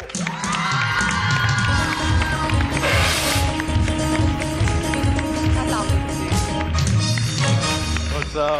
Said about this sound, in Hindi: जोरदार तालियों में हम वेलकम करेंगे आगा अली को